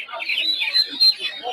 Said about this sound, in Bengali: ফিসেন্ট মুরগি একটা